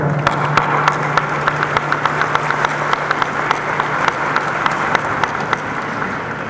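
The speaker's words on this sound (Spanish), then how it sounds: "les quiero pedir un gran aplauso, por favor." Steady applause from a crowd fills the space, continuous clapping with no pauses.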